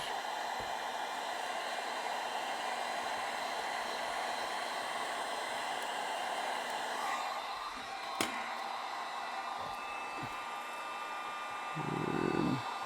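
A heat gun blows steadily on a PVC inflatable boat while an accessory is glued on, a constant loud airy roar filling the whole stretch, with a sharp click midway and a low rumble near the end.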